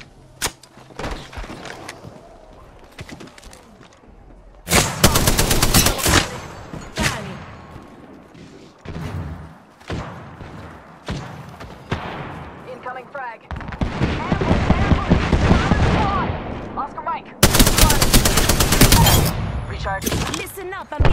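Gunfire in the video game Apex Legends: bursts of rapid automatic fire and single sharp shots, loud and close, separated by quieter gaps with in-game sounds and a voice speaking under the action.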